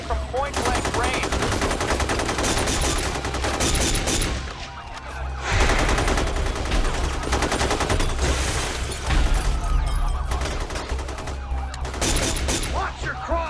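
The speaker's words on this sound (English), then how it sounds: "Shots are firing everywhere." A SWAT shootout at close range erupts as dense, relentless gunfire with rapid machine-gun bursts, loud and nearly continuous. Shouting voices and a faint siren are mixed into the chaos.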